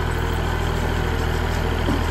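A tractor engine idles in a firewood yard, giving a steady low mechanical drone with a throbbing pulse. It is close and continuous throughout, with no voices.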